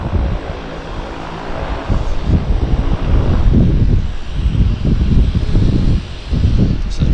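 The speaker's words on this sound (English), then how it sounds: "now there's our twin otter taxiing out" A de Havilland Twin Otter taxis out at Vancouver's downtown harbour, its propeller engines giving a loud, steady broadband drone that swells slightly midway, with wind buffeting the microphone.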